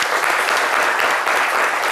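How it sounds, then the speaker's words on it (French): Studio audience applause on a midday French-language television show: a short, steady burst of dense clapping, close and fairly loud, with no pause. "Des applaudissements pour vous encourager."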